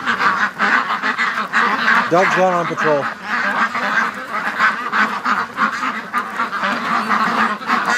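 Ducks quack and honk in a short run of calls near the microphone, over a steady outdoor background while someone talks.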